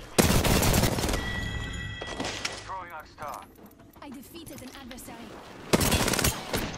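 Bursts of automatic gunfire crack through an Apex Legends match, loud rapid volleys at the start, mid-clip and end, with game effects and a player's voice talking over the quieter stretches between them.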